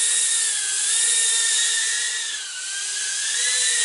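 Tiny BWHOOP B-03 Pro micro drone's motors whine loudly and steadily at high pitch during a yaw test, the tone wavering up and down as the motors spin up and ease off.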